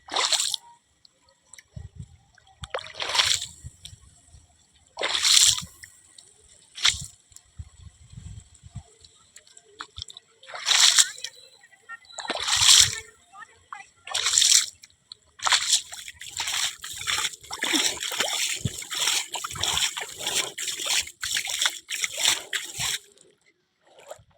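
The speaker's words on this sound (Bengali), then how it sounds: "জল দিয়ে একটু ভিজিয়ে দেবো জাস্ট জল দেওয়ার সঙ্গে সঙ্গে চুই চুই চুঁই চুঁই আওয়াজ হচ্ছে" Water splashed onto a sun-heated roof lands in scattered wet splashes and slaps, then settles into a steady, close, hissing sizzle that lasts for several seconds.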